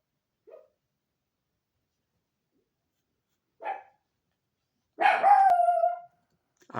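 A dog barks several times at a distance, with short faint yips first and then a louder, drawn-out bark that rises toward a howl near the end, separated by silent gaps.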